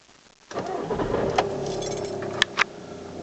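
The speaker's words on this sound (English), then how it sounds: "Let's start the car and see what happens." A cold-started Skoda Octavia 2.0 PD 140 diesel engine cranks and catches after half a second of near silence, then settles into a loud, steady idle, with a couple of sharp key or metal clicks over it.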